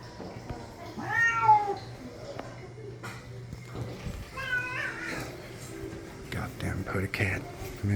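A cat meows twice, clear, wavering cries standing out against quiet indoor background, with soft murmured voices and footsteps nearby aboard a ship's kitchen area.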